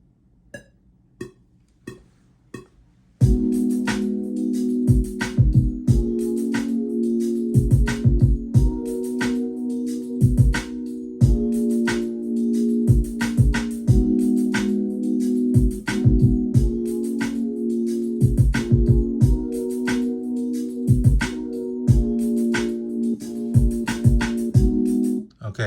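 Synth chord loop made in AUM, playing along with punchy drums after a few soft opening taps, a steady repeating groove with no bass yet.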